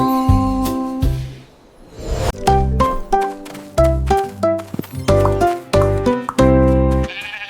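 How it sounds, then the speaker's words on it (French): A series of short sheep bleats, one after another in a steady rhythm, close and fairly loud, with no voices. "Bo Pipa conduit les moutons vers les terres rouges"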